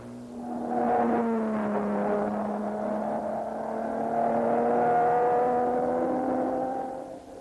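Aston Martin race cars lapping at the Goodwood nine-hour race, a sustained engine drone rising and falling in pitch as the cars pass, fairly loud and steady, with no talking.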